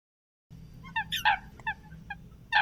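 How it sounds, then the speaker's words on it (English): Coots on the water give a few sharp, honking calls in quick succession over a low steady background rumble, fairly clear and moderately close. "Coot birds communicate with a loud grunt or croaks or sharp calls with other birds."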